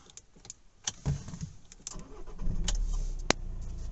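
A Kia Ceed starts up: clicks and a short whirr give way to a quiet engine that settles into a low idle, fairly close, with no talk.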